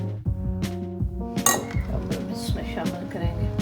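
A spoon stirs chaat ingredients in a bowl, giving close, repeated clinks and scrapes against the dish at an uneven pace.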